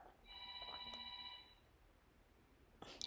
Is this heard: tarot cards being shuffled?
no